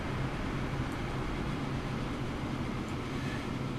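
An old train running in the Transport Fever video game gives a steady, unbroken rolling rumble, heavy in the low end, holding at an even level throughout.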